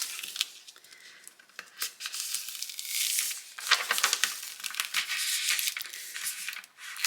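Transfer tape peels slowly off a vinyl name sign on a Dollar Tree wooden round, giving close, bright crinkling and ripping bursts that grow denser partway through.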